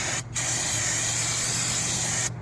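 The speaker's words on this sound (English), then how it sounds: "Carb cleaner, you're just going to spray it on." Carburetor cleaner sprayed from a can onto engine parts to strip old oil before gasket sealing: a loud, close, steady aerosol hiss, with one short pause near the start and another at the very end.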